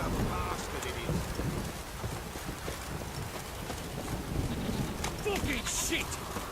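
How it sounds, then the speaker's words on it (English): Heavy rain pours down steadily in The Witcher 3, a dense continuous hiss with low rumbling underneath, heard throughout with some game voices blended in. "This downpour's a bastard, it is."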